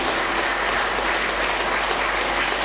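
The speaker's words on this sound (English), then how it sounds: "Give a big clap for dhyana sadhana." An audience claps continuously at a spiritual meditation gathering in Chikmagalur, a dense, steady wash of many hands that fills the whole moment without pause.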